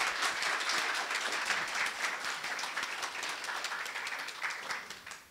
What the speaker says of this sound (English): let's give a round of applause again for you